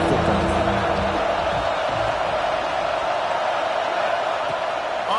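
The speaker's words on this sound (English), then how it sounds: "how nice is it to have the home crowd going absolutely bananas?" A home crowd roars in a college football video game, a steady loud wash of stadium cheering that holds evenly throughout.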